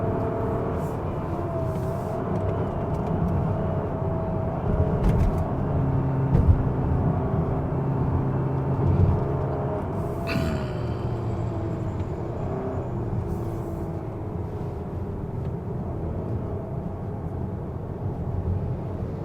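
Kia Sorento 2.5 petrol AWD engine humming steadily as it climbs uphill in manual mode, a continuous moderate drone with road rumble and a faint click partway through.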